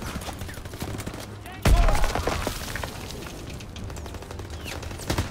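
Gunfire in a World War II video game, a stream of shots and crackling impacts with one loud sharp blast near the middle, set against a busy background din.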